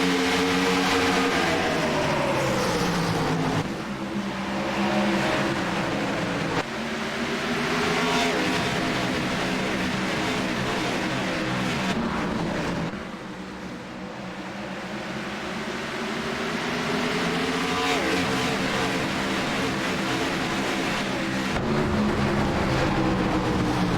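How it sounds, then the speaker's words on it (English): Race cars in an eNASCAR iRacing race at Richmond roar past one after another, their engine notes rising and falling in pitch over several long sweeps. The sound is loud and continuous, with no commentary over it. "Keegan Leahy to the restart."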